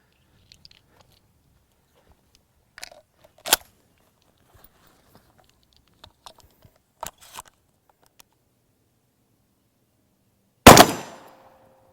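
An autoloader shotgun fitted with a turkey scope fires one sharp, loud shot with a short ringing tail while the scope is zeroed, after several quiet clicks and handling knocks.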